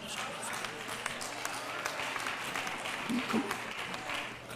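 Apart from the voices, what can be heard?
church congregation clapping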